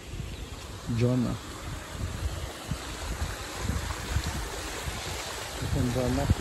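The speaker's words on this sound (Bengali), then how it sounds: "ঝর্ণা" A waterfall and flowing water in Malacca, Malaysia make a steady, full rushing wash throughout, with two brief tonal calls or voices near the start and end.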